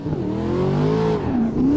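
A Corvette drifting at full throttle in Assetto Corsa, engine held at a high, loud, steady wail that bends upward then dips, with a tire screech rising over it toward the end.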